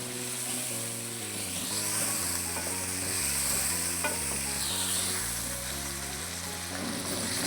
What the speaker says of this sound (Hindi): अब मैं करूँगा इसको भुनाई अच्छे तरीके से कम 10 से 15 मिनट।